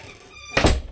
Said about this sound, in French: Et là j'ai fermé la porte à clé pour ne pas qu'elle vienne.